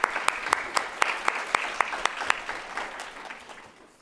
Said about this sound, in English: So just give a round of applause for our sponsors.